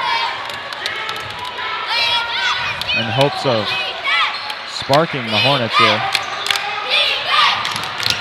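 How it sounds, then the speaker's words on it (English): Crowd at a high school boys basketball game between Mt. Blue and Leavitt: a loud, continuous roar with cheering and ball bounces, under a commentator's voice. "I think that crowd noise probably speaks for itself."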